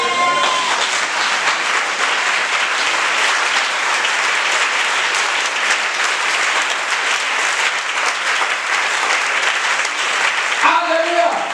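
A church congregation applauds in a loud, continuous wave of clapping to acclaim the Lord Jesus, steady throughout and close, with a voice briefly emerging at the very end.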